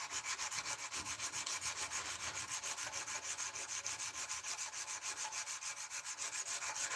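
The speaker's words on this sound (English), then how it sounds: "cleaned it all up, heat treated, and now I'm hand sanding." Steady, continuous hand sanding of a forged, heat-treated kukri blade, with rhythmic back-and-forth rasping strokes on metal, close and fairly loud, with no talking.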